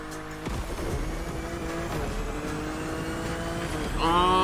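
Car engine roars and tires squeal while driving around Honolulu in The Crew Motorfest, a steady racing drone with gear shifts and a sharp rising rev near the end, loud and continuous.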